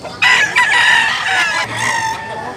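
At a chicken farm in Tabunok, Cebu, a rooster crows loudly and close by in one long, strained call that breaks into a second rising phrase, with other fowl faintly clucking around it.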